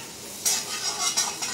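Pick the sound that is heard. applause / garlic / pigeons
garlic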